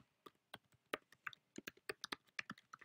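Computer keyboard keys tapped in quick, uneven bursts while an email address is typed, the clicks close, crisp and fairly quiet with short pauses between.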